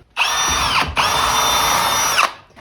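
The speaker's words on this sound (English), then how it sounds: "We'll drill a pilot hole." A power drill whirs steadily for about two seconds drilling a pilot hole, briefly dipping once before spinning up again, close and loud with no talking.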